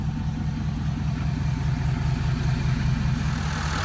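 A 2012 Ford F-250 Lariat's 6.7 liter Powerstroke turbo diesel with a stock air box and DPF delete idles close up, a steady low rhythmic clatter with an even pulsing beat, loud and alone.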